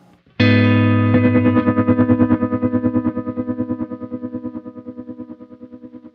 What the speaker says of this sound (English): that's why we get those tremolo effects at higher settings